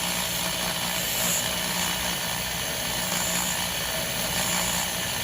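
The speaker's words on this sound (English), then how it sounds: "I'm not really creating a big spark because I'm buffing, I'm not grinding." Rotary tool buffing metal parts on a modified Carter carburetor, a steady high-pitched whine with grinding hiss running continuously and close.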